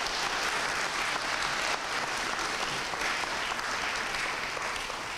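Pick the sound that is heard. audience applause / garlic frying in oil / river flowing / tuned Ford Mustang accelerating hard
audience applause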